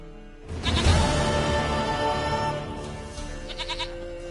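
Goat bleating in The Witcher 3: Wild Hunt, a few repeated wavering bleats over game music and ambience, fairly close and clear.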